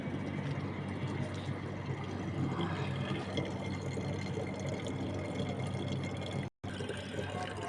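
Drinking water pours into a clay pitcher (kolshi) on a rooftop. A steady, rushing, splashing flow continues almost unbroken, with one brief cutout near the end.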